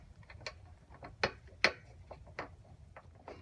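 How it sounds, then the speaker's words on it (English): A sidewalk bolt is threaded into the bottom of a storm panel against a building, giving faint, irregular metallic ratcheting clicks and scrapes, a few sharper ticks standing out in a quiet setting. "go ahead and start your first sidewalk bolt into the bottom"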